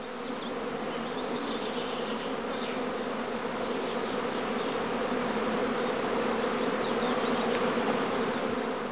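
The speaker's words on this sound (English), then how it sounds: "the bees continue to move about restlessly while humming loudly" A dense, steady buzzing hum of a honey bee swarm at a skep, loud and continuous throughout with no voices.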